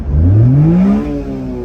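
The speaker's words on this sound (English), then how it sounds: "And just to make sure, can we still rev all the way out?" A Honda Beat's small engine revs up hard close by, the pitch climbing steeply for about a second, then settles back into a steady lower drone with no talking.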